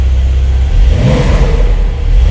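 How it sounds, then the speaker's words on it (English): A Porsche 911 Carrera S (992) Cabriolet exhaust revs with a deep, rough roar and crackles that swells and settles over a couple of seconds, loud and close, no voices. "you can hear the crackles and the tone of the exhaust"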